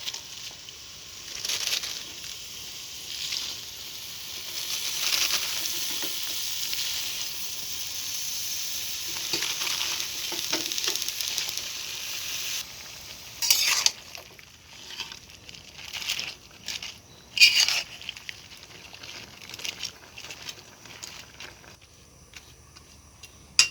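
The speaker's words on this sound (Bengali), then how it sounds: "খুব ভালোভাবে নেড়ে চেড়ে নিয়েছি" Malabar spinach greens simmer in a pan after water is added, giving a steady sizzling hiss with intermittent crinkly stirring and scraping that grows choppier toward the end.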